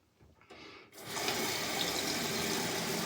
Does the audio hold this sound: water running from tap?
yes